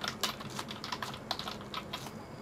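Close, quiet typing on a computer keyboard, a quick irregular run of light key clicks with no voices.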